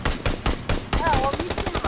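In the video game PUBG, machine gun fire rattles in loud rhythmic bursts up close, while a player's excited voice talks over the shooting.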